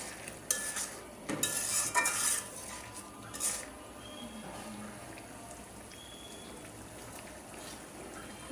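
Salted hilsa fish curry stirred in a cooking pot, a few clattering scrapes of a spoon against the pot in the first few seconds, then a faint steady simmer with no talk.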